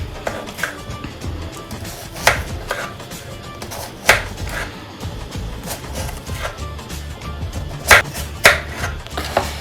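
A knife cuts repeatedly into a peeled onion on a board to make a blooming onion, giving a series of crisp, irregular taps and chops at close range with low background noise and no speech.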